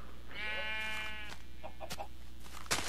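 A Minecraft sheep gives one clear, wavering bleat in a game world, followed by a few soft game clicks and a short burst of noise at the end.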